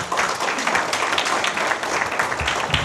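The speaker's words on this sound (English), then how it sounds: "let's please give a round of applause to the Brevard Zoo" Audience giving a round of applause at an event celebrating the Brevard Zoo, a steady burst of many hands clapping close by.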